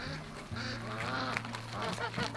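Goose honks on a home garden farm during the first hard freeze, a few nasal calls close by against steady background hum.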